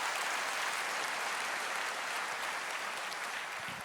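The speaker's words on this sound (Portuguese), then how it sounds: "E pode aplaudir," Dense, sustained applause from a church congregation during a sermon, a steady roar of many hands clapping that fades slightly toward the end, with no voices standing out.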